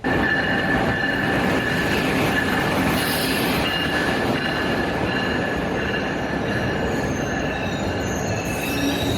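A high-speed Amtrak train runs on rails with a loud, steady rumble, and wheel squeal and rail clatter hold throughout, heard from on board with no talking.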